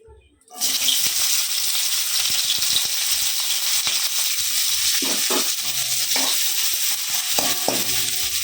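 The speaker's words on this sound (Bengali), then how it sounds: "এবার এই শিম কটা আমি দিয়ে দেবো তেলে" Broad beans dropped into hot oil after brinjal, setting off a loud, steady sizzle that starts sharply near the beginning and carries on throughout, with a few soft clanks of a spatula and pan.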